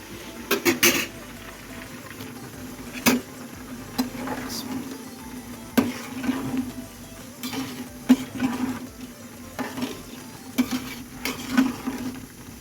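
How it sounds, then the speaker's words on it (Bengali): Pangas fish cooking in a pan in a home kitchen: a low steady frying hiss with sharp clinks and scrapes of a utensil against the pan at irregular intervals. "এখন রান্না করে নিচ্ছি পাঙ্গাস মাছ"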